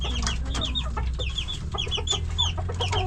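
Hens and a rooster clucking inside a coop, a steady stream of close, overlapping clucks and squawks over low background noise.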